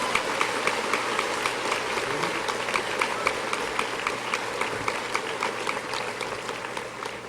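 Applause for a teaching award winner at a university commencement ceremony, a long, even roar of many people clapping from a large audience, with a few crisp nearby claps cutting through and continuing steadily throughout.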